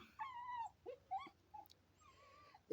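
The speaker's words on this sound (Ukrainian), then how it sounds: "Заважає мені тут цуценя прийшло чуже." A stray puppy whimpers and yips in a vineyard, giving several thin, high, whining cries in short bursts close by.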